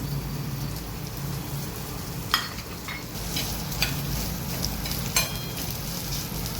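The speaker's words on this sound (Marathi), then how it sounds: "तव्यावर मी तेल टाकून घेतलंय त्यात आता हा कांदा आपण परतायला टाकूया" Onion fries in oil on a griddle, soft sizzling crackling steadily in the background, with occasional sharp clinks of a utensil scraping and stirring on the hot surface.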